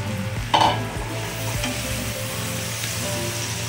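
Brinjal pieces sizzle in hot oil in a frying pan for rui fish chochori, a loud splash as they drop in, then steady crackling with scraping stirs.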